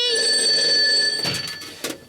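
A telephone rings on a live comedy game show stage, a sustained electronic ringing tone that fades and is followed by short bursts of crowd noise.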